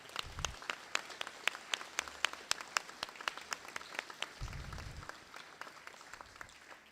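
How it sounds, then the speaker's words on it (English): Audience applause fills a school gym at a graduation ceremony, with steady overlapping clapping at moderate distance and a few louder individual claps standing out. "So a round of applause to everyone who made this happen here today."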